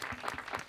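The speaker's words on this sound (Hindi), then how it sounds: "आप इन रे वास्ते जोर से तालियां बजाओ" Brief burst of audience applause on the set of a Rajasthani dance show, a dense wash of clapping at moderate level with no talk over it.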